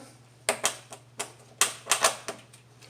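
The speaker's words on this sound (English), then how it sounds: "all you have to do is screw this right in here." A screw is driven into the plastic of a 2004 Infiniti G35 headlight, giving sharp, close clicks in two quick bursts separated by a short pause.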